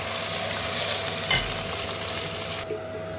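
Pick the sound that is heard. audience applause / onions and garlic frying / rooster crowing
onions and garlic frying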